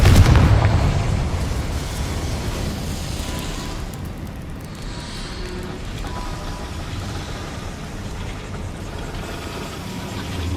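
A Confringo spell blast in Hogwarts Legacy opens with a heavy explosive boom, then fades into a long, rumbling, noisy tail that holds at a steady level.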